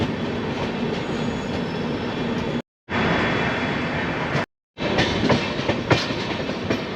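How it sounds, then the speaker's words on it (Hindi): A Bhilai SSCR MEMU local train rolls past at Bilaspur Junction with steady loud rumble and clattering wheels, continuous throughout with two brief cuts. "और ये सामने भिलाई SSCR का मेमू लोकल।"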